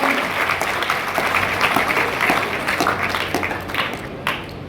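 Students applaud at a career counselling session in Gohana, Haryana: loud, dense clapping from many hands that fills the room steadily, with a little crowd murmur beneath.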